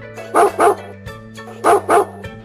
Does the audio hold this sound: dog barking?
yes